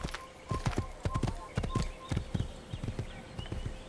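Horse hooves clip-clop in a steady walking rhythm in the Assassin's Creed video game, close and moderately loud, with a background tone and faint game ambience behind the hoofbeats.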